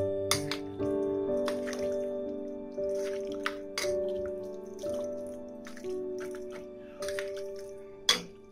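Raw chicken is hand-mixed with marinade and salt, giving soft wet squelches and drips in intermittent bursts, close by, under gentle background music.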